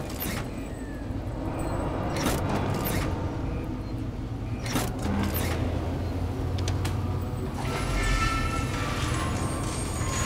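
A tram car in Alien: Isolation starts and pulls away with a continuous rolling rumble, metallic creaks and clanks, and a few sharp mechanical bangs, loud and steady throughout.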